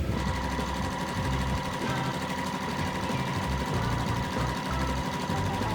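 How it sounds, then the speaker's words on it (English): A sewing machine stitches quilt squares along a drawn line, running continuously with a fast, even mechanical whir and rapid needle chatter, close and steady throughout with no talk. "I'm gonna sew directly on that line."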